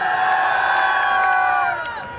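A crowd at a Punjabi village fair honouring Pir Baba Qutab Shah, cheering and shouting together in a loud sustained roar that tails off toward the end.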